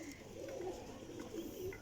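Soft, low cooing from young golden racing pigeons, several gentle throaty calls repeating at close range over a hushed background.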